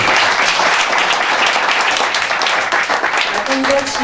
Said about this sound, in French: écoutez, je vous demande de l'applaudir